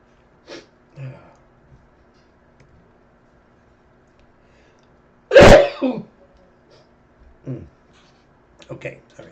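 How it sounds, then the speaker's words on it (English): A single loud, close sneeze bursts out midway through a live options-trading stream, with faint scattered speech sounds and a throat noise before and after it. "Okay, sorry, sneezing there."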